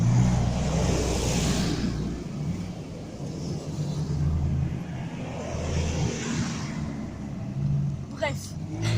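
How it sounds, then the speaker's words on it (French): Cars pass on a road in repeated swells, each engine rising and fading as it goes by, with a low rumble throughout and a person talking over the traffic. "il y a des voitures"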